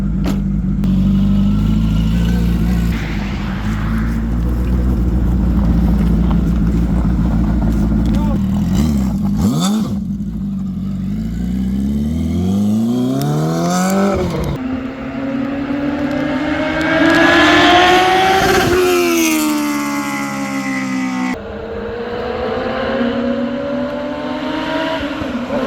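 Microcar fitted with a sport motorcycle engine, revving hard with rising and falling pitch sweeps as it drives off, loud and close, with several gear-change jumps and people talking and reacting around it.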